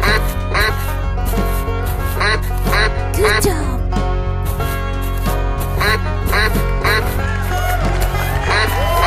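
A duck quacks repeatedly in loud, close, evenly spaced bursts over steady background music.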